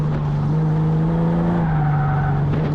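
A car is driven hard around the Charlotte track at an SCCA Track Night in America event. The engine drones loud and steady from inside the car, holding a sustained high-rev tone with a slight pitch shift.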